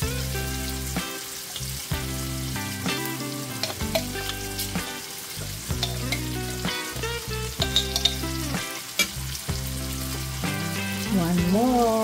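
Spicy bagoong shrimp paste with chili sizzling in a pan, a continuous frying crackle with occasional stirring scrapes, heard under steady background music.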